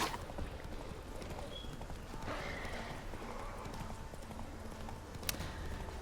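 Roach the horse gallops in the video game The Witcher 3, hooves clip-clopping in a quick, steady rhythm throughout, fairly soft, with a brief whinny-like tone and some background game ambience.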